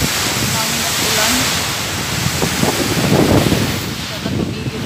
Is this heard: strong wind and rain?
yes